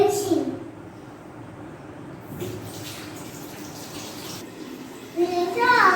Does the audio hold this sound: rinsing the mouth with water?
yes